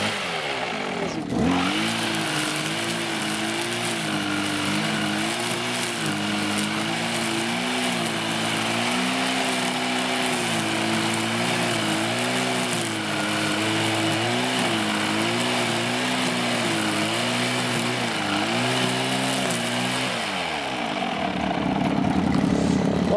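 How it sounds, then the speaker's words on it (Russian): A petrol string trimmer with its line head tapped on the ground while cutting: a steady, loud two-stroke engine drone held at high revs for about twenty seconds, with a sharp knock at the start and the engine dropping off near the end. "нажимаем на газ и просто во время движения стукаем об землю"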